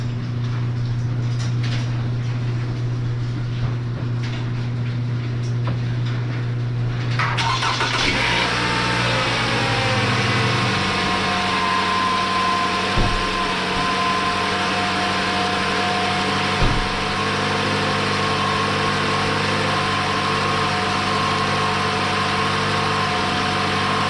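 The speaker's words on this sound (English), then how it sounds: "You're going to want to hold it at about 15 to 2500 RPM just to help heat up the engine a little quicker." A 2013 Toyota RAV4 engine cranks and catches after a few seconds of background hum, then settles into a steady, even idle while warming up, heard close and alone without talk.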